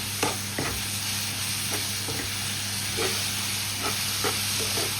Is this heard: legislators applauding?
no